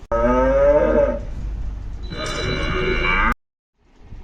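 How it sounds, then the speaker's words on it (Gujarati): A bull's moo sounds loud and close as two drawn-out bellowing calls, each about a second or more long, followed by a short silence and a faint noise at the end. "બળદ બળદનો અવાજ કેવો હોય"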